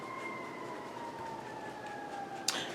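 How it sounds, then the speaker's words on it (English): A fire truck siren wails faintly in the distance, a thin steady tone gliding slowly downward, with a brief clatter at the end. "I'm pretty sure that is a fire truck."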